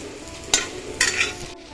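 Dried mango pickle stirred over a low flame: a quiet sizzle with two sharp scraping strokes of a spoon against the pan, close up and with no voices.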